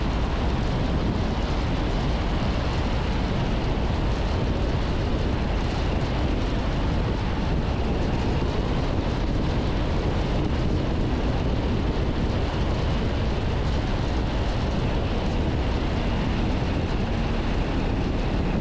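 A small general aviation airplane making its landing, heard from inside the cockpit as a loud, unbroken roar of engine and wind noise that holds steady throughout with no voices.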